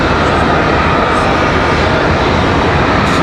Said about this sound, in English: There's our A319 coming across the taxiway.